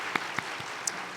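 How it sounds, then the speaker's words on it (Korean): A church congregation applauding a senior choir after its anthem at a Sunday service, a steady wash of clapping with a few sharper claps standing out. "더 뜨겁게 박수를 축하해 주시면 감사하겠습니다"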